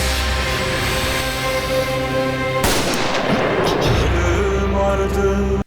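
Gunfire from a dramatic scene in a Turkish TV series, a dense, loud burst of shots over a continuous low musical score, followed by a sharp blast that rings out.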